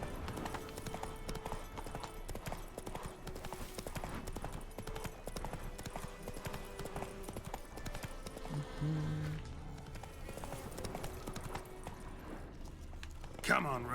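Roach, a horse in The Witcher 3, gallops with a fast, steady clip-clop of hooves throughout. A player's voice talks at intervals over the hoofbeats.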